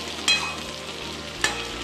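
Vegetables frying in a pan for a Bengali vegetarian curry of katwa data with pumpkin, taro and potato: an even, moderate sizzle broken by two sharp clinks of a spatula against the pan.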